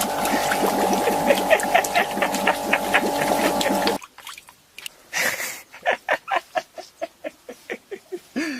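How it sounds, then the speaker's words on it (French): A tire inflation pump drives bubbles through a makeshift car jacuzzi: a steady, loud humming drone with a watery churn, then it cuts off and a run of sharp, rhythmic bubbling bursts follows. "Il utilise une pompe de gonflage de pneus pour faire les bulles."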